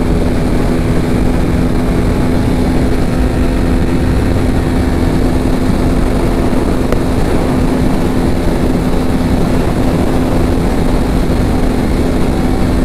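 Steady, loud engine drone from a TVS Apache RTR 200 4V Race Edition motorcycle on the move, holding a constant hum throughout with wind-like rumble and no talking.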